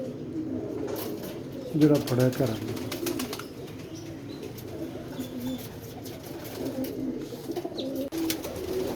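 Several netted-plumage pigeons coo in low, soft murmuring bursts that rise loudest around two seconds in, then carry on quietly beneath someone speaking nearby.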